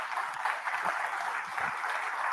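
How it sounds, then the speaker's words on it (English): An audience gives steady, dense applause that fills the whole short moment without pause. "a round of applause"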